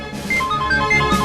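A phone rings with a short repeating electronic ringtone melody, steady and moderately loud indoors, with no one speaking over it.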